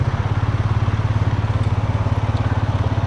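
An ATV engine idles in neutral with a steady rapid thumping pulse, loud and close, alone without talk.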